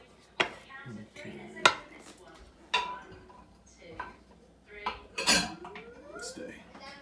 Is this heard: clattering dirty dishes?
yes